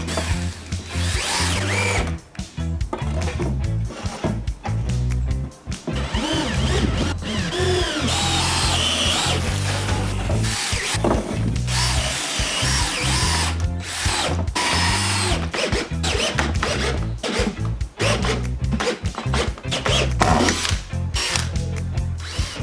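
A power drill drives decking screws into wood on an outdoor deck build, with repeated loud whirring bursts, motor revving and ratcheting clutch clicks, close-up and nearly continuous with short pauses between screws.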